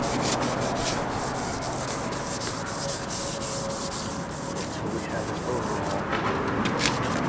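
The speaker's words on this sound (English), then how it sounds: "So now starting with the roughest, we wet sand it." A foggy headlight lens is wet sanded by hand with a headlight restoration kit, giving a steady, close scrubbing rasp that continues without a break.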